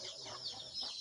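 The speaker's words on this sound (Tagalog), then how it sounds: "At ito, ang mga aming manok." Chickens clucking on a farm, soft overlapping clucks and chirps at a distance, faint and brief against quiet outdoor background.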